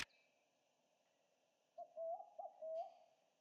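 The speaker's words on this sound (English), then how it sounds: "There's a ton of birds here. Can you hear that? Bar-shouldered doves." Bar-shouldered doves calling at a bay, a few soft hooting notes in quick succession after a quiet start, fairly close against a calm background.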